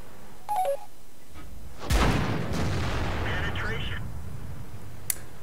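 Tank cannon fire in World of Tanks, a single heavy booming shot with a long rumbling decay, preceded by short game interface beeps and followed by a faint distant crack.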